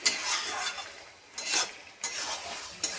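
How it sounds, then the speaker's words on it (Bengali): A spoon scrapes and stirs chicken curry sautéing in hot oil in a pan, in short bursts of scraping strokes with a soft sizzle between them, close and fairly quiet. "আর একটু ভালো করে কষাতে হবে"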